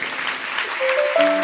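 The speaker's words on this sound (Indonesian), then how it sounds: "Kasih tepuk tangan untuk saudara kita." A church congregation bursts into applause, a brief wash of many clapping hands with a sustained musical tone entering underneath.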